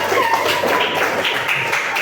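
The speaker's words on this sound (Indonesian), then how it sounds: "Tepuk tangan dong." A school class applauds in the classroom, a short, dense, steady patter of clapping with children's voices blended underneath.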